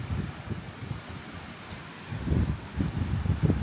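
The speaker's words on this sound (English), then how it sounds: "It's very windy." Gusty wind buffets the microphone in low rumbling bursts in cold Kyrgyzstan countryside near sheep, fading briefly before picking up stronger again.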